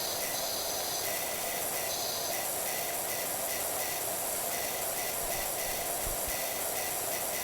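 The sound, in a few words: pressure washer spraying with green nozzle in PowerWash Simulator video game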